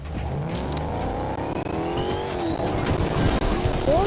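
A car in the video game Fortnite accelerates away, its engine revving and rising in pitch with tire noise, loud and continuous.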